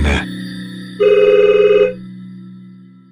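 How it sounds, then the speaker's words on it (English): A telephone rings once in a loud, close burst of rapid bell trills, with a steady hum before and after the ring. "Then the phone rings again."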